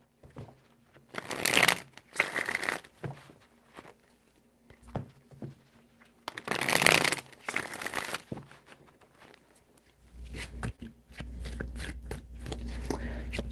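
Tarot cards riffled and shuffled in a few quick bursts separated by quiet pauses, close and crisp, with soft rustling and a low hum toward the end.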